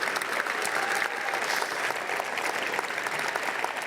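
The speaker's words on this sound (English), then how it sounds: "So let's give a round of applause for Coach Lee Nickel and his team." Audience at a school sports awards show applauding a coach and team, a steady dense wash of clapping from a crowd, moderately loud and continuous without speech.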